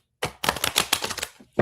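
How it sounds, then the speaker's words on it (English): A quick riffle of playing cards being shuffled, a rapid flurry of crisp clicks followed by a short snap at the end. "do a bridge shuffle really quick"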